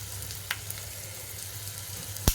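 Mustard seeds, cumin and dried chilli tempering in hot ghee give off a steady low sizzle, broken by a couple of sharp pops, one small and one loud near the end.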